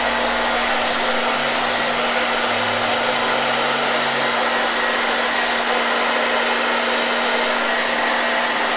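Hair dryer blowing over a DIY canvas craft, a loud, constant rushing hum with a steady tone, unbroken from start to end.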